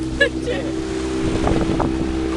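A motorboat drives across the lake at Vevey, its engine a steady low drone mixed with wind buffeting the microphone, close and continuous, while people talk over it.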